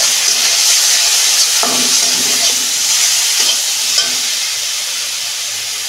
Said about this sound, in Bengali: আমি কষাবো ভালো করে।